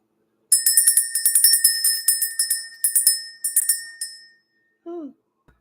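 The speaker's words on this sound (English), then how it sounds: "Let's ring the bell." A bell rings in a rapid, bright run of clustered strikes for about three and a half seconds, loud and close, then stops before a short voice sound.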